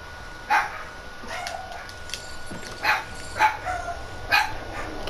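A dog barks four or five times in a loose, uneven rhythm, somewhat distant and moderately loud, over a faint steady background with no talking during the barks.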